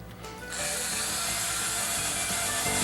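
A power drill driving stainless screws to mount a pre-drilled cabin bulkhead of marine plywood with mica laminate on a boat, starting up after a short pause and then whirring steadily and close at full speed.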